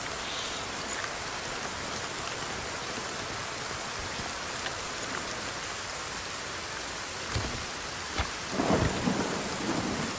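Rain pours steadily in the survival video game Force of Nature II, a constant hiss, with a couple of rumbling thunder cracks rolling in near the end.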